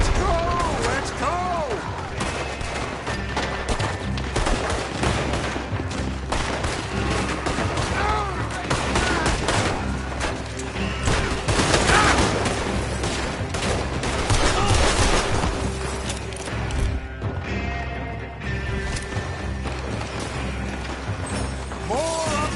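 Heavy gunfire rattles through a Red Dead Redemption 2 shootout, with dense overlapping rifle and pistol shots, rapid bursts and booms that run continuously and loudly throughout.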